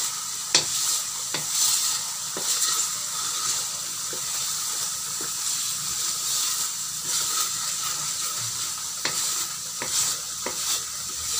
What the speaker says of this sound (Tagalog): Nag-start na siyang kumulo ng kumulo. Nag-start na siyang ma-reduce yung liquid.